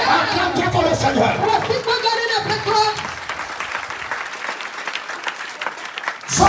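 A church congregation applauding and cheering for the Lord, a loud wash of clapping mixed with voices and chatter that gradually thins out toward the end.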